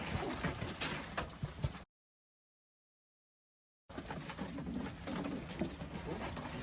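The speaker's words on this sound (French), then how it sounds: "quand on jette les pigeons et quand le vol vient se poser sur nous" Wood pigeons cooing and calling outdoors as decoys are thrown and a flock of wood pigeons comes in to land, with birdsong and faint rustling throughout and a silent gap midway.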